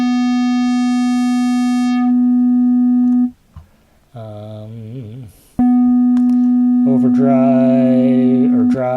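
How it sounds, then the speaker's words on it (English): Korg opsix synthesizer with distortion applied, sustained tones clipping toward a harsh square-wave buzz, with a short gap, a swept modulated passage, then the loud distorted tone returning. "Distortion. I think you all know what distortion does."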